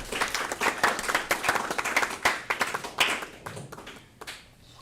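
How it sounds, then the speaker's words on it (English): An audience applauds a guest speaker at a club meeting with a short burst of clapping that starts dense, thins over a few seconds and trails off into scattered claps. "please give a round of applause for Celine"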